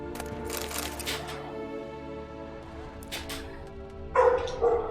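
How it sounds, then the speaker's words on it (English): Dogs in The Witcher 3 video game bark a few times, a couple of sharp barks near the end standing out over a background of game ambience and faint tonal music. "Just beware of the dogs."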